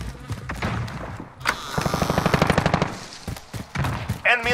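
Rapid automatic gunfire from the Call of Duty: Modern Warfare video game, a dense rattling burst of shots mid-clip amid other sharp game shots and effects, loud and close.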